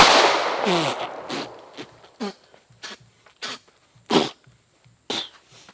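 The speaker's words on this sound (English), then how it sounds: "I'm going to fire this one by hand." A Hi-Point gun lubricated with bacon grease and fired by hand, a loud close shot with a ringing tail, then a series of sharp short bangs at irregular intervals.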